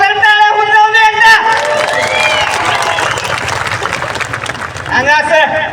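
Live audience at a Maharashtrachi Hasyajatra comedy show in Nashik Road bursts into loud, sustained applause and cheering, swelling for several seconds amid crowd noise after a single voice speaks over a music bed.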